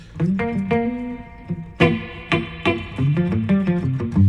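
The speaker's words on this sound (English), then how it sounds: "that's a great rock and roll guitar right there" Electric guitar strummed and picked through effects, chords ringing with a slightly distorted, chorused tone, loud and close with no voices.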